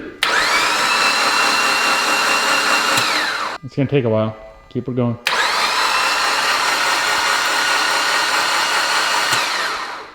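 A loud, steady mechanical whir of an Evo X engine cranking over with no spark plugs fitted, running continuously, pausing briefly while someone speaks, then resuming at the same even drone.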